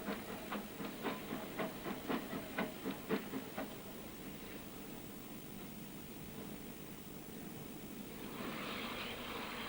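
Rhythmic chuffing from a steam locomotive, about a dozen regular beats, fading into a steady hiss that swells slightly at the end.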